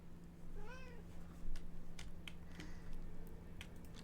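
A single video game cat meow in Monster Lab Simulator rises and falls early on, followed by scattered soft clicks against a low background hum.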